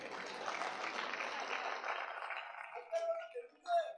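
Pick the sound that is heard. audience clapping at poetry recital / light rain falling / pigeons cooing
audience clapping at poetry recital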